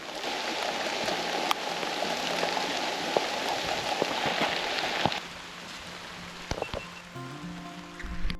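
Rain falls outdoors during a salmon trolling trip, a dense steady patter on the boat and water that drops to lighter, sparser drops partway through, with a few clicks and knocks nearby.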